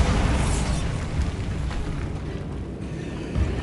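Bombarda blasting spell detonating in the Hogwarts Legacy video game, a loud broad explosive burst whose rumbling roar fills the whole moment and fades slightly before a second swell near the end.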